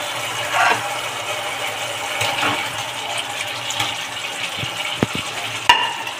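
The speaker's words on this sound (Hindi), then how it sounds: "आलू डाल के अच्छे से चला लेते हैं, अच्छे से मिक्स कर लेते हैं।" Fried potatoes stirred into a pan of sizzling, oil-rich masala for a no-onion, no-garlic yogurt curry: a continuous close sizzle with wet scraping and a few sharp clinks of the spoon against the pan.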